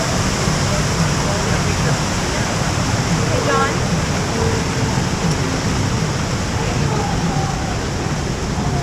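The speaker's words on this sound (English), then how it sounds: "there's a waterfall around here on this main street" A street waterfall water feature on a Waikiki main street pours with a steady, loud, broadband rush. Faint traffic and passing voices sit underneath.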